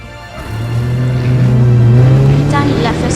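A car engine turns over and settles into a steady low hum that swells slightly in pitch, heard up close and continuous throughout, with faint background sounds near the end.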